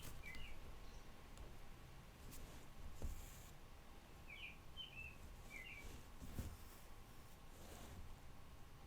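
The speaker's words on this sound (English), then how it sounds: "It sounds like a Disney bird." Cartoonish bird chirps, several brief high twittering calls in small clusters, faint against a quiet room hiss with a few soft taps.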